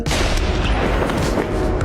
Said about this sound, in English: The gunshot drew everyone's attention.